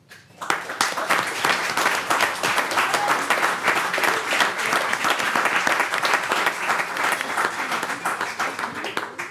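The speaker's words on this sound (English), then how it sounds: "I want you ladies to applaud them" A crowd applauds steadily at a town board meeting, dense clapping that starts abruptly and holds loud for several seconds.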